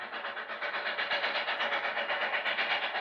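A 1991 Daylighter excursion train rolls by on the rails, a loud, steady rumble with a rhythmic clickety-clack and faint hiss running unbroken throughout.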